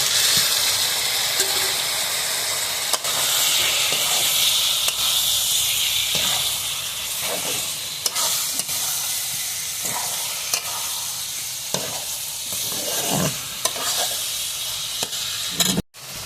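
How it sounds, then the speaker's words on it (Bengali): Washed chicken pieces hit a hot pan and set off a loud, dense sizzle that hisses on steadily at close range, with faint scrapes and clinks beneath it and no talking. "ধুয়ে রাখা মাংসগুলো ঢেলে দিচ্ছি"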